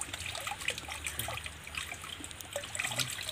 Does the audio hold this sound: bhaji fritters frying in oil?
no